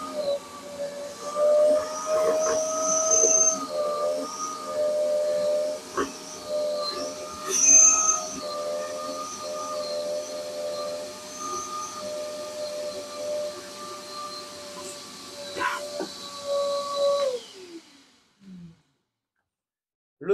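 A Parkside wet and dry vacuum cleaner sucks up foam with a steady, loud droning whine and an airy hiss, the pitch shifting slightly as it runs, then winding down and cutting off near the end.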